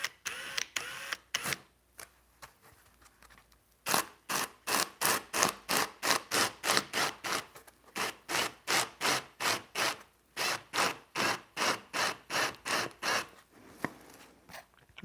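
A hole being drilled into a boat, heard as a close, rhythmic run of short grinding bursts with brief pauses between them, and no talk.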